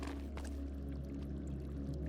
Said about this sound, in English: Added water to bottle.